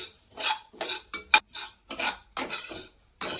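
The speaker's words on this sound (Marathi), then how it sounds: "हे तीळ आहेत ना आपल्याला खमंग असे ना भाजून घ्यायचे हलकेसे ना लालसर" Sesame seeds dry-roasted in a pan with no oil, stirred in repeated scraping, rattling bursts about every half second, fairly close and alone.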